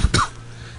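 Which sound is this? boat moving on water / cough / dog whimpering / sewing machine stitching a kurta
cough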